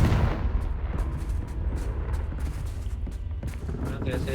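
Confringo fire-spell blasts in Hogwarts Legacy, a run of booming bursts and crackling impacts over a dense rumbling battle bed, with someone talking over the action.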